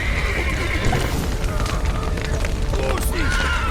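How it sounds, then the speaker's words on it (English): Horses in The Witcher 3: Wild Hunt neigh and whinny against a dense, steady game soundscape with background voices, close and fairly loud over about four seconds. "Horses!"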